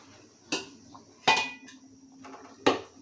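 A metal lid is set over a cooking pot of meat, giving three sharp clanks spaced about a second apart, close and clear with a faint ringing tail and no talk.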